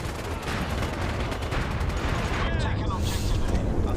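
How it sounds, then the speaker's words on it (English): Gunfire from shooting enemies in a doorway in the video game MAG, a dense continuous barrage of shots and booms, loud and close, running throughout under game noise. "I'm shooting enemies as they come in the doorway"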